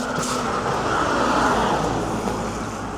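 Car traffic passes on a road in the UK, a steady broad roadway rumble of vehicles going by at moderate distance with no voices.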